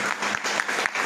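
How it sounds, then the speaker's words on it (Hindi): Audience clapping at an IMC business meeting, a short burst of steady applause from a crowd in a room, moderately loud. "क्या बात है, जोरदार तालियां।"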